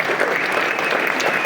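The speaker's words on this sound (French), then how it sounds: "Et eux aussi, on doit les applaudir." Steady, dense applause from a ceremony audience at a municipal New Year's greetings event in Aulnay, continuous and fairly loud throughout with no voices over it.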